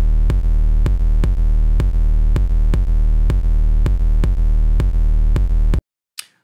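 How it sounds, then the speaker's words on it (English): Distorted kick drum sample that merges kick and bass into one sound, hitting in a steady, evenly spaced loud pulse of about fifteen heavy booming strikes, then stopping abruptly into near silence. "So I have this distorted kick that was in that sample pack that I made a while ago."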